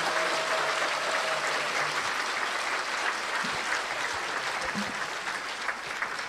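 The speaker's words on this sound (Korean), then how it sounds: "힘찬 박수 한번 쳐주십시오" A crowd at a commemoration ceremony marking the anniversary of the inter-Korean summit declaration claps steadily throughout, with broad, even applause from a sizeable audience, a faint voice or two surfacing near the end.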